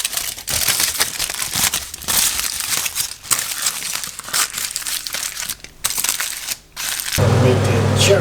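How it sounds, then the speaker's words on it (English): Aluminium foil crinkles and crumples as it is wrapped around a pan-fried duck breast, with busy close crackling throughout and a louder, denser rustle near the end. "I'll wrap this in aluminium foil to keep it hot."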